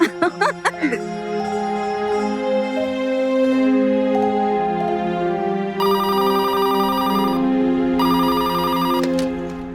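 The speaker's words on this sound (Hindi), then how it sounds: "जरा पंकज जी को फोन देना।" A telephone rings loudly and steadily in a home drama scene, its electronic tone repeating in bursts over a sustained musical bed, close and alone without talk.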